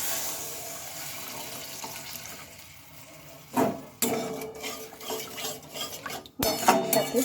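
A spoon scrapes and clanks in a pan as a flattened bean and spice mixture is stirred with a little added water, with irregular sharp knocks and wet stirring that build toward the end.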